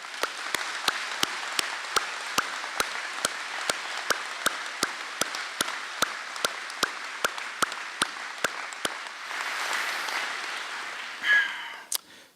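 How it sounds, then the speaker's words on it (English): A middle school closing ceremony audience gives sustained applause, a dense steady wash of clapping that runs for about eleven seconds before tapering off at the end. "let's give him a big round of applause"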